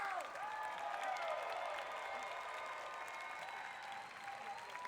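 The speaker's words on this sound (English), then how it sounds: "Let's give one more round of applause for our friend Kevin" A Hall H crowd at San Diego Comic-Con applauds Kevin Smith, a dense, steady roar of clapping and cheering that fills the large hall evenly and fades slightly near the end.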